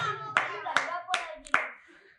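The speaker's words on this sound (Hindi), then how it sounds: "तालियां बजाएंगे।" Children in a classroom clapping together, four distinct sharp claps in a steady rhythm, fairly close, with a faint voice between them.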